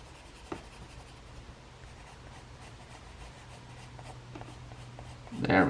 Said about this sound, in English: I need to put a little bit more shading right here